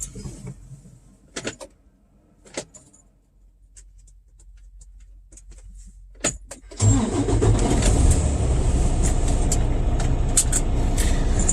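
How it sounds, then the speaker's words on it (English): After a few scattered clicks and small knocks in near silence, a semi truck's diesel engine cranks and catches, then settles into a loud, steady idle close by while air pressure builds, with no voices. "I'm going to turn the truck back on, let the air builder pressure build up again"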